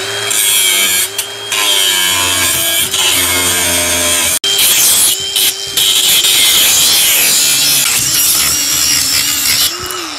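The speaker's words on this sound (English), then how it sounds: "we're going to go ahead and cut this hinge with the angle grinder" In a garage, an angle grinder cuts through a metal hinge with a loud, continuous high whine and rasp, pausing briefly midway before resuming the long grind.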